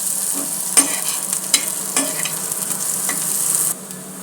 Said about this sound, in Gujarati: ઓનિયનને થોડી બ્રાઉન થવા દઈશું, ત્યાં સુધી એને થવા દઈશું બરાબર.